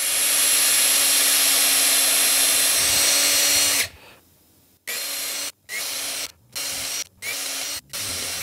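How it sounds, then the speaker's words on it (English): A power drill whines continuously, stops, then runs in several short bursts separated by brief pauses, loud and close, drilling string-through holes in a Telecaster-style guitar body with a 5/32 bit. "Then we're gonna drill for the string through."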